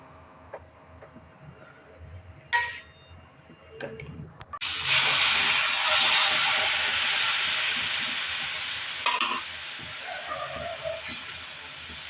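Batter for paneer pooras hits a hot tawa and breaks into a loud, steady sizzling hiss that holds for several seconds, with no talking over it.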